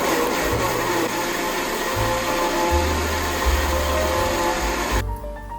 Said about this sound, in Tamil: இப்போ இதை நல்லா கிரைண்ட் பண்ணிக்கலாம்.